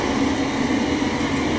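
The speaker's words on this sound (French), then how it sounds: "On a calculé, alors voilà un bruit d'un cargo." A cargo ship recorded underwater in the Arctic Ocean, heard as a steady, loud, unbroken low rumble and hiss with no pauses or changes in level.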